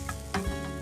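Chopped onions sizzle steadily in a pan while samala double beans rice is being cooked, with a couple of brief stirring scrapes over the continuous frying hiss.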